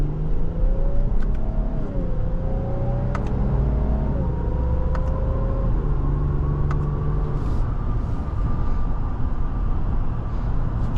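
A 2025 Infiniti QX80 Autograph with a twin-turbo V6 and nine-speed transmission accelerates through several gear shifts, its engine note climbing and dropping in steps over a constant low road rumble, heard from inside the cabin.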